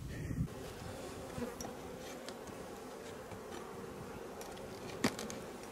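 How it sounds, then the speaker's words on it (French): Honeybees from strong colonies buzz steadily around open beehives during a summer honey harvest, a soft continuous hum with occasional louder passes near the listener. "il y a beaucoup d'abeilles quand même dans les ruches là"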